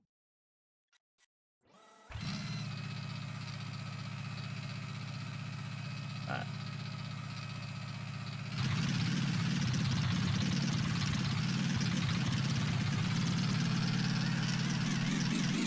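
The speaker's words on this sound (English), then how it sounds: "Start the engine." A car engine in the building game Gearblocks cranks with a few clicks, starts and settles into a steady drone that grows louder and rougher as the revs rise, with a brief spoken word partway through.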